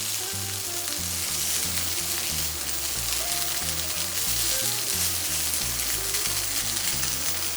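Hash browns fry steadily in a skillet, giving a close, even sizzle and crackle with no pauses.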